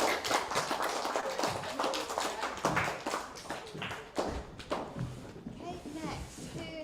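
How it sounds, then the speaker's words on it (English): Scattered clapping from a primary school audience at a live-streamed fringe festival performance, sharp uneven claps mixed with voices talking over them. "Big clap for the artist"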